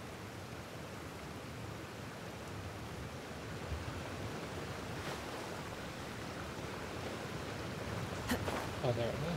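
A waterfall in the Genshin Impact video game, heard as a steady, soft rushing hiss of falling water that continues without a break.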